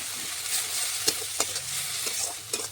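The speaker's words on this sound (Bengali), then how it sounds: "দেখুন ভালোভাবে এইভাবে মশলাটা কষিয়ে নিচ্ছি।" Spice masala for mutton biryani stirred in a hot pan, cooked over a wood fire, giving a steady sizzling hiss with scraping stirs at irregular intervals and no talk.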